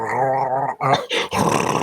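A voice imitates the Predator's growl from the film, giving a low throaty rumbling growl followed by short guttural clicking bursts, loud and close.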